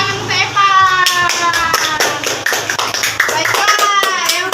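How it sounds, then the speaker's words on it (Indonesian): Children clap their hands in applause during a classroom lesson on Islamic prayer, a steady burst of many close, rapid claps mixed with children's voices speaking. "tepuk tangan untuk Evan."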